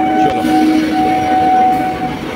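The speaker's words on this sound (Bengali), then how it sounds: "ডাউনের ট্রেন চলে গেল" A down train rushes past at Sodepur station, loud and close, with a rolling rumble and a sustained whistle-like tone over it, steady for a couple of seconds with no voices.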